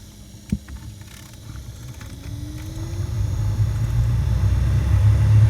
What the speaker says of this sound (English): And I think you can hear the blower is actually operating already, right?